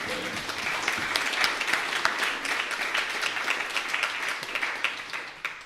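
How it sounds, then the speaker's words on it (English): A live audience gives a round of applause, individual claps standing out crisply within a fairly close, lively burst that keeps going at a steady level. "I think there's a round of applause in there, surely, isn't there?"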